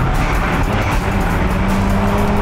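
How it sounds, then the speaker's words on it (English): A Mazda RX-7 sports car driven hard into a turn on a track, its engine roaring loud and close in a steady, continuous drone. "Into the turn. Come on, RX-7, you can do this."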